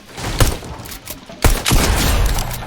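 Video game gunfire in sharp, loud bursts, a shot near the start and a heavier cluster of blasts partway through, with thuds of building pieces being placed while the player jumps; no talking.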